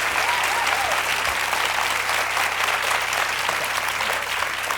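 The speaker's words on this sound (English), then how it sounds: "That was a cheap way to get another round of applause" A crowd applauding at a live money-making special event, dense continuous clapping that stays loud and even throughout, with a faint low hum beneath it.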